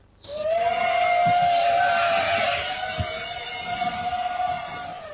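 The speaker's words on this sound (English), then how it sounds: "then you will hear the hum of drones in the sky." Drones in the sky give a steady, sustained whistle-like tone with a broad mechanical hum underneath, constant and fairly loud, with a couple of faint knocks.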